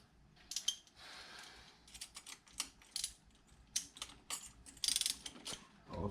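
A ratchet with a 10mm socket clicks in short bursts while a cold air intake is fitted to a Honda Fit, faint and close, with scattered metallic ticks and brief pauses, no talking.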